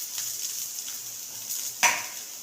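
Coconut and crushed chili roasting in a pan give a steady, soft sizzle that holds throughout, with a brief sharp clink near the end.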